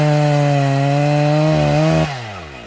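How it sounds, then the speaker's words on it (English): A chainsaw runs loud and steady at high revs, then its engine note drops sharply toward idle near the end, with no voices over it. It is heard in a lumberjack setting in Wisconsin. "As a Wisconsinite, we all recognize the sound of the chainsaw."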